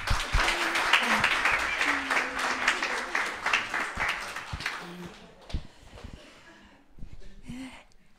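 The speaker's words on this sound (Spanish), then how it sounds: "Un aplauso." Church congregation breaking into applause during a Spanish-language sermon, a dense wash of clapping for about five seconds that thins out, with a few scattered voices calling out over it.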